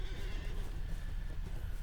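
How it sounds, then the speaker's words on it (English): A horse in a video game gives a short neigh over hoof clip-clops, heard fairly close against a low rumbling background. "I want my horse"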